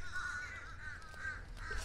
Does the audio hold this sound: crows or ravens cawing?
yes